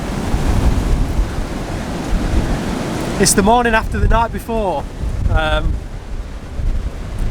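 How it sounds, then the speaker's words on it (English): Strong wind buffets the microphone over crashing sea waves on a Scottish island in winter, a loud continuous roar, with a person speaking briefly partway through. "It's still very, very windy."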